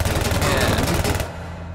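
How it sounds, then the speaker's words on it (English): Rapid automatic gunfire blasts at a door in the game Technobabylon, a dense loud burst of shots lasting just over a second before cutting off into a low rumble. "Just stop shooting at us."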